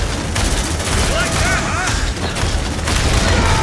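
Dense, continuous automatic gunfire against aliens in the video game Aliens: Dark Descent: a loud, rapid stream of shots runs throughout over heavy battle noise.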